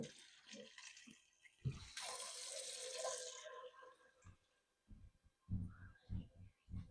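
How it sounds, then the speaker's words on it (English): Tap water pours into an Instant Pot inner pot for a batch of Mexican-style beans. A steady, moderate rush lasts about two seconds, followed by softer knocks and handling clatter. "So I'm going to fill this up with water"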